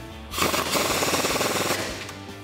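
Impact gun tightening a castle nut with a 19mm socket while installing a front leveling kit, one close, loud burst of rapid rattling hammering lasting about two seconds.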